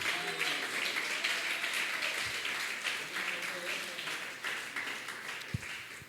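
Applause from a church congregation during a Sunday school service, a steady wash of many hands clapping that holds at an even level for several seconds before tapering slightly.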